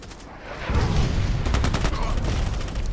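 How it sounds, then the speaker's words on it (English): Mortar and gunfire in the online shooter Contract Wars, a dense rattling volley of loud blasts that rises sharply after a quieter start and keeps pounding without pause. "And another mortar."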